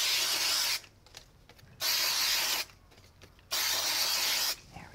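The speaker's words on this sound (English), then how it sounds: "what I'm going to do is just pop some spray glue on the back" Spray glue hisses onto the back of a piece of card in two steady bursts of about a second each, separated by quieter pauses with light handling noise, close and fairly loud.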